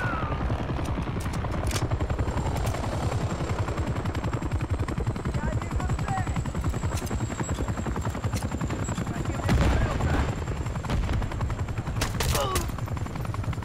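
An attack helicopter approaches in Modern Warfare III on a frozen tundra dam level, its rotor thudding loudly and continuously while bursts of gunfire crack over it and a player talks.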